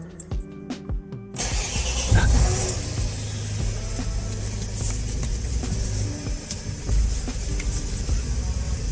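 Renault Trafic 2.0 dCi diesel van engine, fitted with a new power steering pump, starts up after a brief clatter and then settles into a steady, close idle.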